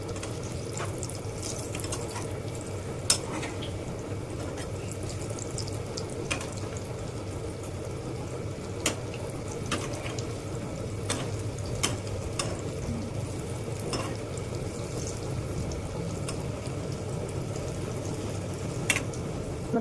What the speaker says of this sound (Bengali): ভাজা হয়ে যাচ্ছে, আস্তে আস্তে উল্টে দিই।